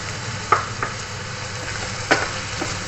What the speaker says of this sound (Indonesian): Ini cuma dicampur aduk aja biar bumbunya meresap sama jamur sama paprika juga gitu.